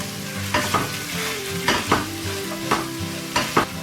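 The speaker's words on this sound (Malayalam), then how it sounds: "രണ്ട് ചെറിയ മീഡിയം സൈസ് സവാള ഇളക്കി കൊടുക്കാം" Two medium-sized onions fry and sizzle in a pan for a Kerala chicken kappa biryani, with steady crackling broken by repeated loud scraping stirs, close and clear with no voices.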